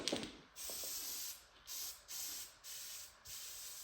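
Light mist sprayed from a nozzle during Porsche 911 engine assembly, heard as a quick series of soft hissing bursts, each lasting a fraction of a second to about a second with short gaps between, close by and with no voices.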